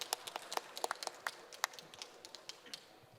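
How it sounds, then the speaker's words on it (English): An audience claps to welcome speakers at a startup conference hall, with scattered, uneven claps spread through the room at moderate distance rather than a dense roar. "Please welcome them with a warm round of applause."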